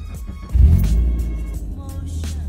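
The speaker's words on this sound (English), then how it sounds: "We're gonna start the car up and check all the gauges and how everything looks." A 2000s NB Mazda Miata engine cranks and catches at about half a second, a loud low rumble surging briefly before settling into a steady idle, heard up close with no talking.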